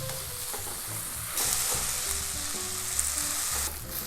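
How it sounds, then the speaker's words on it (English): Onions stir-fry in hot oil in a pan with a constant bright sizzle, while utensils scrape and tap the pan in an irregular rhythm, close and moderately loud. "It is recommended to stir fry at least 3 minutes until it has"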